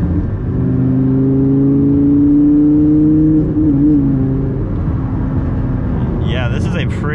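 A Lamborghini Gallardo with all-wheel drive driven through sharp turns, its engine droning steadily with shifting pitch as it moves through corners, heard from inside the car.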